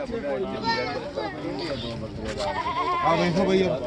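Goats bleat several times in quick, wavering calls, close by, with people talking and livestock noise around them at a village goat market.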